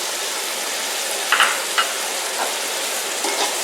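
Spices for a mixed vegetable pulao, including red chilli powder, crushed red chilli and salt, fry in a pan with a steady, close hiss and a few soft stirring clicks.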